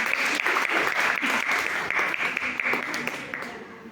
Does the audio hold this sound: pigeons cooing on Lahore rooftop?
no